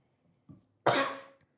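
A small throaty sound followed by one harsh, loud cough close to the listener, then quiet.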